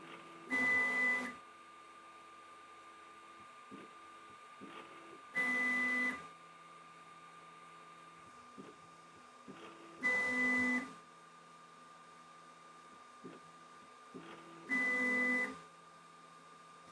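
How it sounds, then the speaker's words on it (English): A Sovol SV08 3D printer runs gantry calibration, giving four evenly spaced bursts of motor whine with short beeping tones every few seconds, and quieter stepper movements between them over a steady low hum. "Is it doing the gantry calibration now?"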